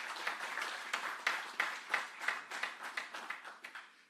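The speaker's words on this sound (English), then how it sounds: "Give them a round of applause" Audience at a keynote address for a tech launch event clapping, sparse distinct claps in a loose rhythm that gradually taper off.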